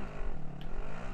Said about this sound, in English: I'll drive the truck over there.